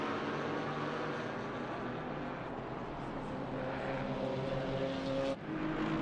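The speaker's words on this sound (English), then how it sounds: "We've got a 10-cylinder, an 8-cylinder, and a flat 6. And they're racing each other." Race cars with V10, V8 and flat-six engines lapping Brands Hatch in a PC racing game: a steady, layered engine drone with rising and falling tones, a brief dip near the end as one car shifts, and no talking.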